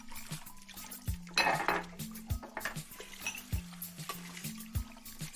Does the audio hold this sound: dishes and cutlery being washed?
yes